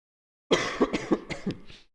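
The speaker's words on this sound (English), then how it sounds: "sorry my cough is so bad today" A single harsh cough followed by a short run of rough, phlegmy coughs, close and fairly loud, each burst fading quickly with no talk.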